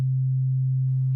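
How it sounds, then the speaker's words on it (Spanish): Steady pure sine-wave tone from a synthesizer oscillator holds at one pitch for about a second, then cuts off abruptly at the end. "Aquí tenemos un oscilador de una onda senoidal."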